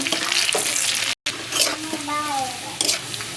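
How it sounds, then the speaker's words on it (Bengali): Chopped onion and garlic with bay leaf fry in hot oil in a pan for masoor dal, a steady crackling sizzle with a brief stir and a voice in the background. "পেঁয়াজ রসুনটা আমি একটু বাদামি কালার করে তুলে নেব"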